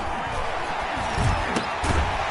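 Stadium crowd roaring and cheering in the Madden 21 football video game, a dense, continuous wall of noise with swells and a couple of sharp peaks, with no talk over it.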